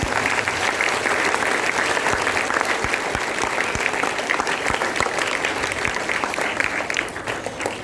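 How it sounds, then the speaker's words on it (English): A school assembly audience claps at length, a dense, loud, sustained wash of many hands with a few sharper individual claps standing out, fading slightly at the very end. "Can we again give a big round of applause?"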